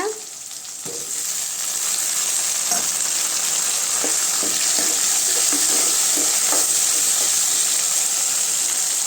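Tomatoes and softened onions sauté in a pan for mango vathal kuzhambu, a steady close sizzle broken by repeated scraping stirs and soft clicks of a spoon against the pan.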